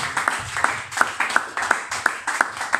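A church congregation claps in unison during worship, with about eight crisp, evenly spaced claps in a steady rhythm over a soft low background.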